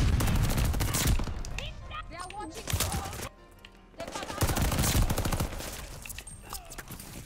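VOLK assault rifle in Call of Duty Vanguard firing in rapid automatic bursts, loud and close, with a short pause midway and echoing shots around it.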